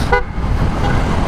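A short, high-pitched scooter horn toot, from a Vespa, sounds once near the start, over a steady rumble of road and engine noise.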